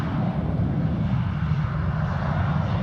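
Airplane engine roaring steadily as a plane climbs away after takeoff during plane spotting at Toledo airport, a loud, continuous low rumble with no talking.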